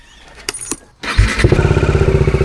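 A motorcycle engine starts after a few light clicks and settles into a loud, close, throbbing idle, warming up early in the morning with a steady pulsing rhythm and no talk.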